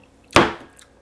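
A knife makes a single sharp chop through fresh fruit that is being cut up for a smoothie. The hit is close and crisp and fades quickly, with no other sound around it.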